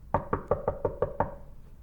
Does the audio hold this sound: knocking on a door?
yes